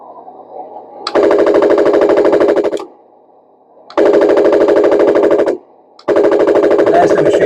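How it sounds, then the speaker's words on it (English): A Henglong M26 Pershing RC tank plays its machine gun sound effect: three loud, rapid rattling bursts, each lasting a couple of seconds, separated by short gaps with a low hum underneath. "There's the machine gun."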